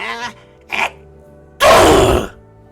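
A loud, acted human sneeze in a game let's play, preceded by two shorter vocal sounds, then one sharp burst lasting under a second and ringing with slight echo.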